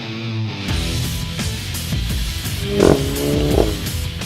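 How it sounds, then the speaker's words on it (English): A VW Golf GTI on a racetrack, its engine rising and falling through gear changes, with sharp exhaust pops and a brief tire squeal midway, loud and close. "Just hear that exhaust pop during gear changes is so addictive"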